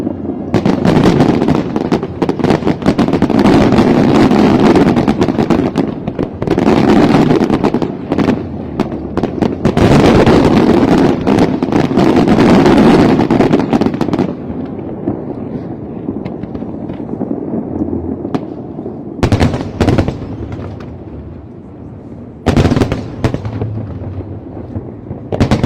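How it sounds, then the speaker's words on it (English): Hong Kong's Lunar New Year fireworks display over the harbour, with dense volleys of loud booms and crackling bursts that pause, then return in sharp isolated bangs. "you are watching the Hong Kong Lunar New Year's firework display"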